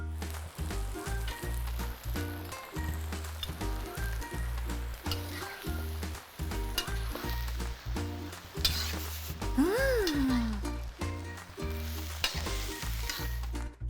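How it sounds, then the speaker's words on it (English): Soy sauce and Japanese curry are stirred in a frying pan: a steady close sizzle with repeated rhythmic scraping strokes of a utensil throughout. "Let's add some soy sauce now. And the Japanese curry."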